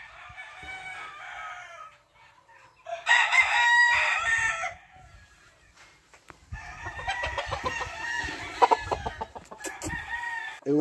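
A gamecock born in 2021, a crossbreed of a Colombian yellow line, crows loudly nearby: one strong call, a short pause, then a longer drawn-out crow, with quiet stretches between.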